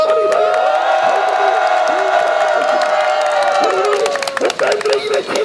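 A crowd gathered for an anti-discrimination law rally and press conference in Ansan lets out a loud, sustained shout, voices merging into one long cheer before it breaks up into scattered calls and whoops near the end.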